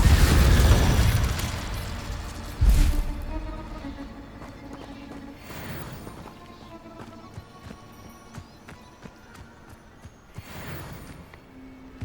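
The Incendio fire spell is cast repeatedly in Hogwarts Legacy, with several whooshing bursts arriving a few seconds apart. Each burst flares loud and then fades into quieter ambience.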